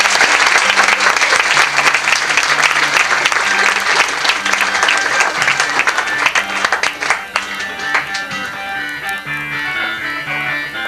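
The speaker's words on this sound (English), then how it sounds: "we have a rousing smatter of applause for our wonderful poets for the evening" Audience applause for the poets at a live evening show, a loud, dense burst of clapping across the room that holds steady before thinning slightly toward the end.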